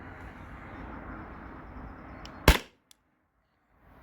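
A single sharp paintball marker shot firing Grimburg Joules V3 7.7 gram rounds, gas-powered by CO2 or 1050 PSI HPA, loud and close, over steady background noise that cuts to near silence after.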